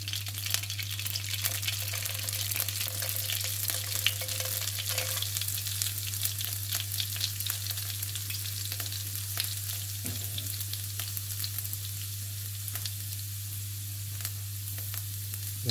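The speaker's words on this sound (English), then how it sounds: "2 tablespoons of vegetable oil. So first I'll put the green peppercorn or black peppercorn if you have." Crushed green or black peppercorns sizzle steadily in hot vegetable oil as the base for a Goan squid cafreal, a continuous close frying hiss with no talk.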